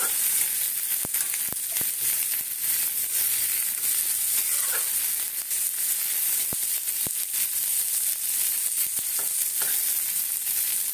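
A whole green chili fries in a small amount of oil, giving a steady, close sizzle and crackle with a few sharp pops, continuing alone without talk.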